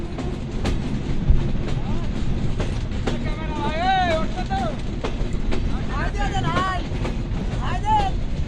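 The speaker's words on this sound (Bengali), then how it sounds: "মোবারকগঞ্জ থেকে আমাদের ট্রেনটা এখন ছেড়ে দিল" A passenger train pulling out of Mobarakganj railway station on the Khulna to Dinajpur route, a loud continuous rumble with wind noise and rhythmic rail clatter, overlaid by rising and falling high-pitched squeals from the wheels.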